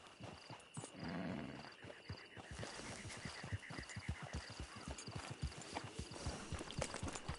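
Horse hooves clip-clop steadily through a Red Dead Redemption online camp, a regular rhythmic trot close by, with a brief snort or whinny early on and ambient game sounds underneath.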